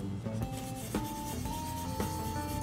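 Sandpaper rubbing back and forth across a primed plastic scale model car body, checking the surfacer coat for flatness; a close, steady rasping scrape that repeats in short strokes with no talk.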